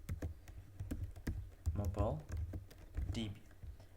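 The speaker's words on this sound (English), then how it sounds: "Now let's write our database name." Rapid clicking of keys on a computer keyboard as a database name is typed, crisp taps in quick irregular bursts close by, with someone speaking over part of it.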